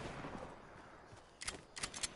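Bursts of video game gunfire crack out in short rapid clusters near the end, loud and close against a quieter noisy background.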